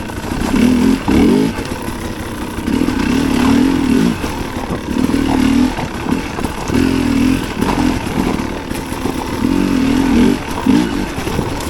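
A dirt bike fitted with a Smartcarb carburetor, running poorly, revs up and drops back in a repeating rhythm of roughly one-second surges over a rough, clattery idle, loud and close with no voices.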